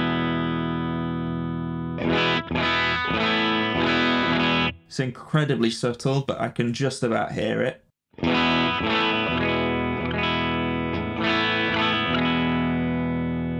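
Electric guitar played through a Crowther Hot Cake overdrive pedal with its bass-expanding switch engaged, giving sustained mildly driven chords and a burst of quicker picked notes, with talking over parts of the playing.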